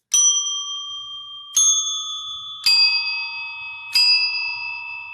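Sonic Pi code triggers bell sounds with randomized pitch and timing: four clear, ringing bell strikes at uneven intervals, each at a different pitch and decaying slowly, with nothing else heard.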